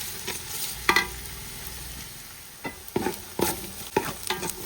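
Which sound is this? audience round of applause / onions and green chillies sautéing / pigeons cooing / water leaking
onions and green chillies sautéing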